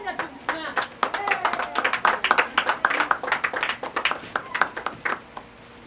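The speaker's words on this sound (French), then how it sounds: "Une belle main d'applaudissements." Audience applause at an outdoor Christmas-in-the-park event, a burst of steady clapping from many hands lasting several seconds, fairly close, with a voice speaking over it.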